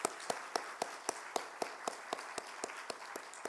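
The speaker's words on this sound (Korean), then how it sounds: "우리 감사의 박수 한번 돌릴까요?" A church congregation claps in thanks, the sound faint and fairly steady, with crisp hand claps landing at an even rhythm for several seconds.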